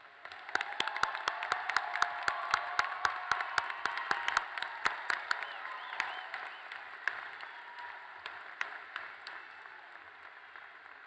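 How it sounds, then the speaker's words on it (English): A crowd applauds graduates at a pharmacy school graduation ceremony. Dense clapping runs with sharp individual claps standing out, continuing steadily for about eleven seconds and thinning slightly toward the end. "Let's give all the graduates a round of applause."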